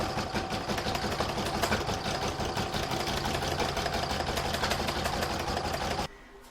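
An embroidery machine stitches decorative stitching on seasonal fabric for an in-the-hoop crazy patch bag, a fast steady mechanical whirring hum that runs close and continuous, then cuts off abruptly near the end.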